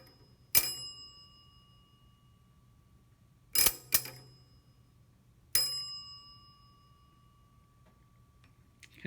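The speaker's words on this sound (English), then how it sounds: "when I make contact and complete the circuit, the electricity runs through and it rings the bell" A battery-powered electric bell rings as a loose wire touches the batteries to complete the circuit, giving four sharp metallic dings, each ringing out and fading, close and clear with pauses between.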